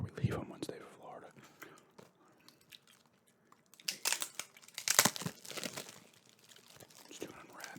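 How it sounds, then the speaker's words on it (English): Video game packaging being unwrapped close to the mic: crinkling plastic and tearing come in bursts, loudest near the middle, with soft whispering and chewing around them. "Just doing unwrapping here."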